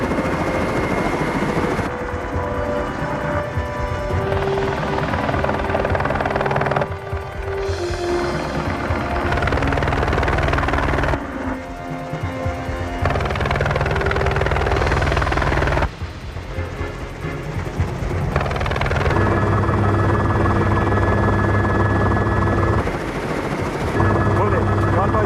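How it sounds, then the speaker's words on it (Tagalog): A helicopter lifts off from a helicopter stand, its rotor and engine drone loud and continuous, with shifting tonal whines and radio-style voices breaking in at intervals. "Bullet, Chopper is taking off from helicopter stand and proceeding to Rango."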